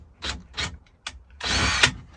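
Power drill driving a screw during camper van fuse box and switch panel wiring, heard as three short revving bursts followed by a longer, steady drilling whine that ends with a sharp catch, up close.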